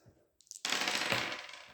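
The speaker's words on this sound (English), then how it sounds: "I accidentally rolled too many dice." A handful of dice tossed during a tabletop wargame clatter briefly, then settle into a short rattling roll that fades out, close and alone.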